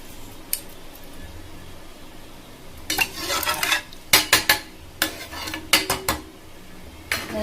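A utensil scrapes and clinks against a pan in bursts of stirring green peas kurma ingredients with rock salt, with a soft sizzle underneath and sharp metallic taps between strokes.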